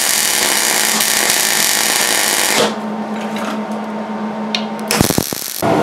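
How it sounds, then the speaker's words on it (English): A lathe spins the axle of a parts tumbler, a loud steady mechanical whir running for a few seconds, then a lower steady hum with a few clicks and a brief rattle near the end. "just for fun I decided to stick it in the lathe to see how true it is"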